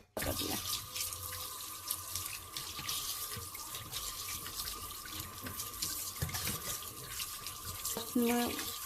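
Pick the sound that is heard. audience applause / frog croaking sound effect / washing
washing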